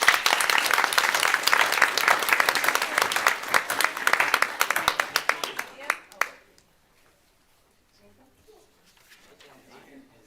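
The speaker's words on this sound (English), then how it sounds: "just have some certificates and round of applause" Audience applause at a city schools board of education meeting, a dense burst of clapping for about six seconds that stops abruptly, followed by near silence with faint room noise.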